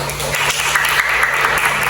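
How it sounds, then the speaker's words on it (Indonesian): Classroom group giving a short round of applause for the first presentation group, a dense burst of clapping close and loud with no talk over it. "Kelompok 1 sekali tepuk tangan dulu"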